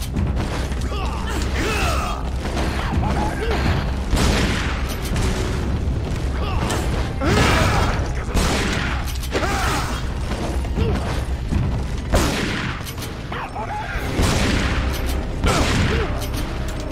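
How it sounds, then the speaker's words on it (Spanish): Dense, busy soundscape from Resident Evil 4: Separate Ways with repeated booming gunfire from above and mechanical clatter, heavy and continuous, with a few faint voices mixed in. "se oyen tiros por arriba"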